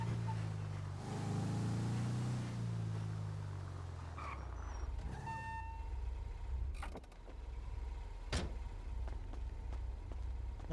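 A vehicle engine in GTA V keeps running after being shut down, a low steady idle hum that continues under a few clicks and brief tones, fairly quiet and close.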